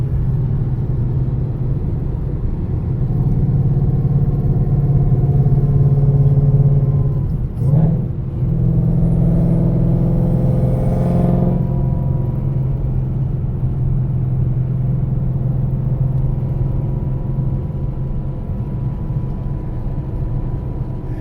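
A Ford Mustang GT with a Whipple supercharger kit and Foster Stage 4 whine mod runs in a steady, loud, close engine rumble with a continuous supercharger whine, and a brief dip in the middle.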